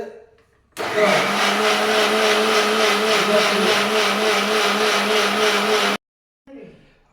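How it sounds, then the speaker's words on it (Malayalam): A mixer grinder whirs loudly and steadily for about five seconds, then stops abruptly, with a short bit of talk after it. "മിക്സി അടച്ചു മിക്സി റെഡിയാക്കി മിക്സി ഓൺ ചെയ്ത്"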